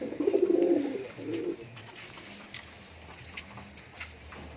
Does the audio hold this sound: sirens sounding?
no